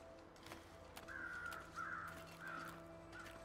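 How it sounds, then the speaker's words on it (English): Several crows caw outdoors in a quiet open setting, a few harsh calls spaced across a few seconds over steady low background hum, moderately near. "Oh, I like the sound of those crows."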